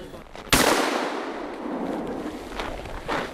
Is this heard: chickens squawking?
no